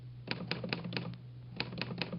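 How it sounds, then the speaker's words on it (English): Keys strike on an Underwood typewriter in two quick bursts, each a run of four or five sharp clacks with a short pause between, close and clear over a steady low hum, with no voices. "I'll type the name out for you now on my Underwood typewriter."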